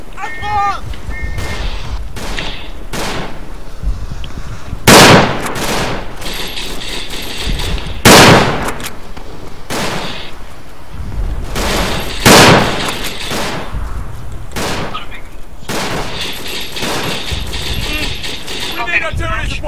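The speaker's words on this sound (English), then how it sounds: "Bomb!" Bomb blasts and gunfire in Verdun, a World War I shooter: several heavy explosions boom every few seconds over steady crackling rifle and machine-gun fire, with voices talking throughout.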